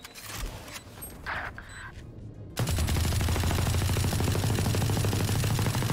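Sustained rapid automatic gunfire with recoil in the video game Valorant, loud and continuous after a short stretch of quieter game sounds, with no talk over it.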